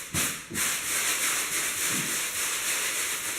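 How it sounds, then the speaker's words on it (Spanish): Close, steady hissing scrape of a medium-grit sandpaper block rubbed back and forth over a smooth ceiling by hand, with a short pause near the start. "con un taco de lija media"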